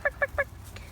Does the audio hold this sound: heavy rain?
no